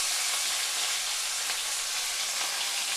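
Fish sizzling in hot mustard oil in a wok, a steady loud crackling hiss that holds unbroken throughout.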